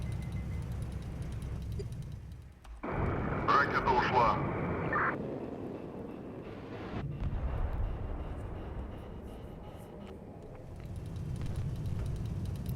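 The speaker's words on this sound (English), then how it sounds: "a reconnaissance plane just found me" Reconnaissance plane flying in the video game HighFleet, a steady broadband drone that swells loudly midway and then settles back, running under continuous talking.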